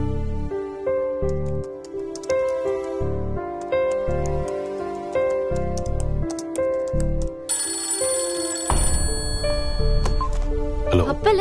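A mobile phone ringtone plays loudly and close, a repeating electronic melody with steady tonal phrases that shifts to a brighter pattern near the end.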